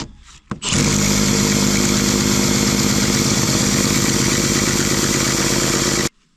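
A power drill fitted with a cheap, low-quality bit runs loud and steady for about five seconds, starting abruptly after a brief click and cutting off sharply at the end, with no voices.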